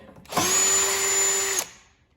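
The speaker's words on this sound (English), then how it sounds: "I'm just gonna go ahead and use my drill with the Phillips to make it a little bit easier" A cordless drill fitted with a Phillips bit backs a screw out of a Craftsman snow thrower, one short whirring run of about a second and a quarter that starts and stops cleanly, close and clear.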